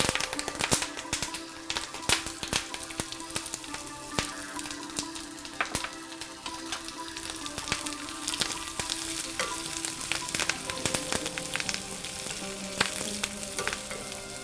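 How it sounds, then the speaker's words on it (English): Curry leaves, red chilies and shallots frying in hot oil for a langostino curry: a loud, steady crackling sizzle with dense sharp pops and spatters running throughout. "let's add in our 3 main guys: curry leaves, red chilies, and shallots"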